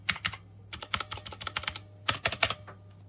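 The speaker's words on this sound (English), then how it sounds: "It's clicky." Fingers tap out quick bursts on a Redragon Kumara K552 tenkeyless mechanical keyboard with clicky blue switches, crisp close clacks in short clusters separated by pauses, with no talking.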